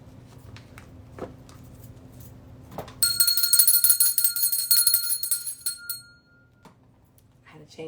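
A doorbell chime, swapped in for a friendlier-sounding bell, rings out loud and bright with a sustained shimmering tone for about three seconds after low background noise and some faint talk.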